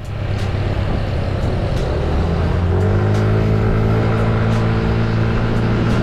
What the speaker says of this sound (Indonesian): itu tadi ada suara karbu atau suara isapan dari box filter yang kerasa nyedot banget gitu ya